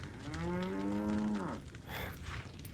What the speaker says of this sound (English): it really takes away when you keep mooing